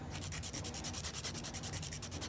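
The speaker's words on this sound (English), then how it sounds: "we're just gonna run over the entire nail, smoothing everything out" An 80 grit file rasps over an acrylic nail during a fill, a steady close scratching of quick back-and-forth strokes with an even rhythm, alone without talking.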